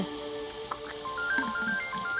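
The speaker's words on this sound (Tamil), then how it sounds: "பெருசோட ஃபோன் அடிக்குது பாரு." A telephone rings in a Tamil film scene. A faint electronic ringtone repeats its short melodic pattern steadily against a quiet room background.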